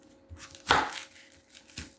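A knife slices through leftovers, likely onion, on a wooden board in a home kitchen, giving two quiet separate thunks about a second apart.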